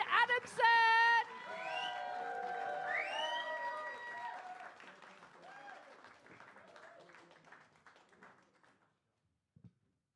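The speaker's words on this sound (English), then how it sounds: "start the clapping. And bring it up, and give it up for Richard Adamson." After a brief musical sting, an audience at a charity comedy show greets a comedian with applause and scattered whoops that swell and then gradually fade to quiet.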